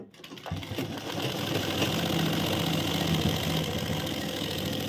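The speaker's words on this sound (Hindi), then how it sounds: "अब एक सिलाई इसके ऊपर और लगाना है, मगर सिलाई के ऊपर ही सिलाई आनी चाहिए।" A sewing machine stitches a second line over an existing seam on a pant seat, running in one steady continuous whir close by after a brief start, with no talking.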